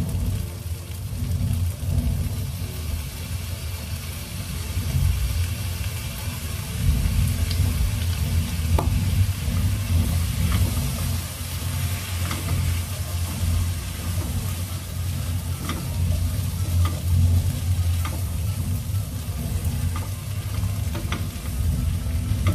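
Soy sauce poured into a hot frying pan sizzles steadily and loudly, with stirring scrapes and clinks throughout over a low rumbling background, no talking.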